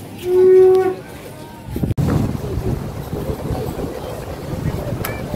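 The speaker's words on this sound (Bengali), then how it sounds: "খুব শান্ত নিরিবিলি সমুদ্র একদম আজকে, কত লোক স্নান করতে নেমেছে" Wind gusts buffet the microphone at a calm seaside beach where people are bathing. The rumble is steady and fairly loud throughout, with a short tonal note near the start and no clear speech.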